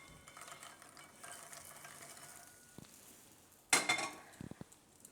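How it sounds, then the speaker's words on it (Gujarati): Roasted makhana dropped into a bowl of yogurt, heard as a quiet kitchen background followed by a sharp clatter of the lotus seeds landing and a few lighter knocks against the bowl. "તો હવે આપણે આ જે મખાના શેક્યા હતા એ આમાં નાખી દેવું."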